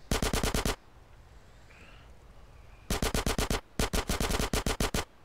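Rapid bursts of automatic gunfire in GTA San Andreas, a short volley, a pause with faint game ambience, then two longer rattling bursts close together.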